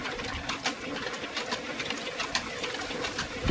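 A sewing machine stitches a cuff bracelet with metric 20 thread, also called 135 or 138, giving a close, rapid, rhythmic run of stitching strokes with small surges and no talk.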